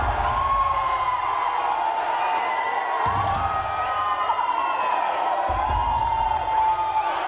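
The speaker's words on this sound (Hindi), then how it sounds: "शाहरुख खान ने अपनी फिल्म की शूटिंग के लिए फैंस की भीड़ इकट्ठा कर ली" A crowd of Shah Rukh Khan fans gathered at an outdoor film shoot raise a steady, dense roar of cheering and shouting, with high whoops and calls rising above the continuous din throughout.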